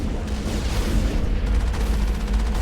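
Video game gunfire in a fight against Geth in Mass Effect, heavy rumbling booms and sustained bursts of shooting filling the clip, loud and dense without clear gaps.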